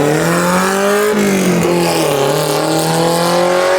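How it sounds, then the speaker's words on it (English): A very loud kei truck engine revs hard and accelerates up through its gears in a neighborhood drag race against an e-bike and a dog, the raspy exhaust note climbing, dropping at shifts, and climbing again, close and dominant. "do a drag race in the neighborhood with the world's loudest K truck"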